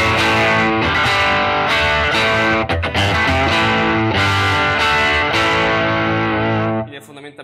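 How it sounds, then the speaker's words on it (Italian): Electric Stratocaster guitar with crunch overdrive and light Line 6 reverb, played through a Princeton Reverb amp: loud sustained distorted chords and notes ringing steadily, ending with a decaying tail. "Fondamentalmente il suono della Stratocaster con il crunch e con l'amplificatore, il mio Princeton Reverb"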